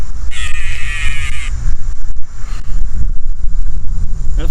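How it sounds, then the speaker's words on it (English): A bird mating call plays from a birder app on a phone speaker outdoors: a harsh, cawing call lasting about a second, loud and close, over wind noise. "It actually has the mating call of different birds."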